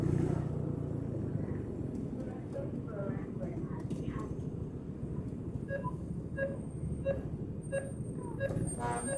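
A motorcycle rides along a road at an unhurried pace, its engine a steady low drone under someone talking throughout, with a few light ticks and taps near the end.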